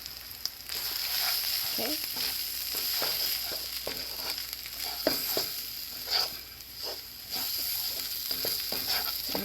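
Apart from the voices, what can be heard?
chorizo and flour roux frying in a pan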